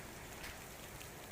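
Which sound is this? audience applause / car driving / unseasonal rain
unseasonal rain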